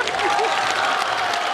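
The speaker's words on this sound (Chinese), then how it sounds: "我就说他们还在鼓掌" A studio audience at a Chinese talk show applauds in a dense, steady wash of clapping that runs the whole moment, with a voice briefly audible over it.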